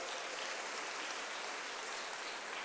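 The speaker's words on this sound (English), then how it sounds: "Give him a round of applause." Steady, even applause from a large audience at a back-to-school convocation, a constant wash of clapping that holds at a moderate level throughout the short stretch.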